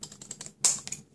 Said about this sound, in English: take my scissors and I'm cutting just a fraction off